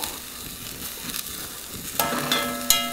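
Beef crowns are laid face down in hot oil in a pan, giving a soft steady sizzle with a few sharp clinks of the pieces touching down, the frying growing brighter near the end.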